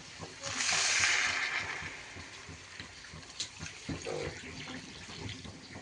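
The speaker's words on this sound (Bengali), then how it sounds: "এবার এর মধ্যে দিয়ে দেবো পরিমাণ মতো জল।" Water is poured into a pan of lightly fried pumpkin, potato and green banana for an ekadashi vegetable curry, giving a loud splashing rush of about a second that fades into softer sizzling and clinks while a voice speaks.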